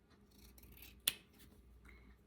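Sharp scissors snip paper once, a crisp close cut standing out from a quiet background, with faint rustling of paper around it.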